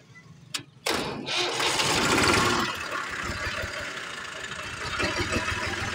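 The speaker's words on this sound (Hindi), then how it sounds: "तो अभी मैं ये ट्रैक्टर आपको स्टार्ट करके दिखा देता हूँ अगर ये स्टार्ट हो गया तो" A Massey Ferguson 350 tractor engine cranks with a couple of sharp clicks, then catches and settles into a loud, steady chugging rumble close by.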